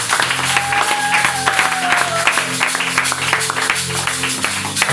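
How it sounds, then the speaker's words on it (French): A church congregation claps and cheers loudly and continuously, with a dense, rhythmic burst of applause over sustained tones and voices, all close and energetic. "Acclame très fort."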